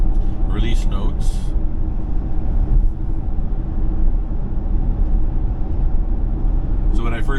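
A Tesla running FSD beta 12.3.1 drives along a Canadian road, with a steady, loud rumble of tyre and road noise heard from inside the cabin and brief voice fragments near the start and end.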